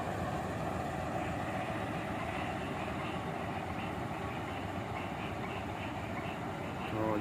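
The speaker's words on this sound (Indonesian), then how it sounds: "Itu ada kereta tuh." A passing train rolls by as a continuous moderate rumble and drone, steady throughout with a slight swell at the end, heard at some distance without talk.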